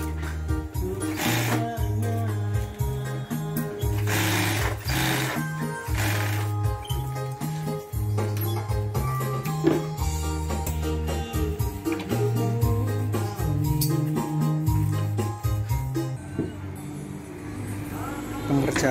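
A sewing machine stitches upholstery for a Daihatsu Taruna car seat in bursts, a rhythmic mechanical whirring that starts and stops repeatedly at close range, with voices talking over it.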